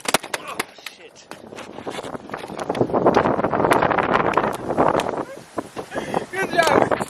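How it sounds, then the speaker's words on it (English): Strong outdoor wind buffets the microphone in a continuous roaring rumble that swells through the middle, with sharp clicks and bursts around it and a voice partly buried beneath. "it's super windy out here and I'm hoping that you guys can still hear me"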